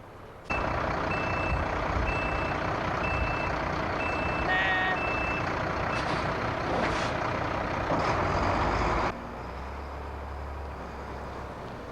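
A truck reverses with steady, evenly spaced backup beeps over a loud diesel engine rumble, close by, before the beeping stops and the engine settles to a lower idle.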